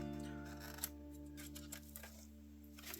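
Scissors snip through a bunch of polar flash, a gold synthetic fly-tying material, in a few light, close clicks over a steady low hum.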